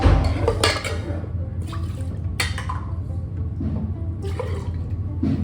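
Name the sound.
washing food under running water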